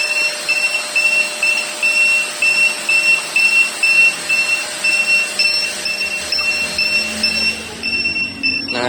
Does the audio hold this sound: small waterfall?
no